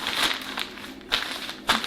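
Plastic shower cap being fitted over wrapped hair during a hair treatment, giving soft crinkling rustles in a few short bursts, close and quiet, with no talking.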